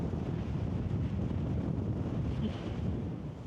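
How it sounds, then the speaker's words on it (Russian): Strong wind roars and buffets the microphone in a steady low rumble on a coastal cape on Sakhalin, with no voices, just a constant blustery rush throughout. "Ветер тут, конечно, ого-го, ветрено."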